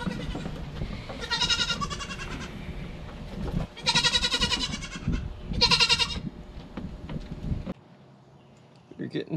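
A young goat bleats in several loud, close, wavering calls spaced a second or two apart, with a person talking over and between them.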